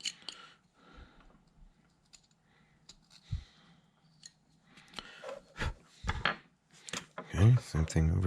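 A cutting tool scrapes and nicks into a chicken eggshell being carved, giving scattered soft scratches and sharp little clicks close up, with a few louder taps and brief muffled voice-like bursts near the end.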